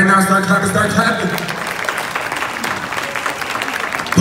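Audience at the 2022 BMMCA competition clapping steadily, a dense wash of applause rising after a stretch of music with voices and hype talk layered over it.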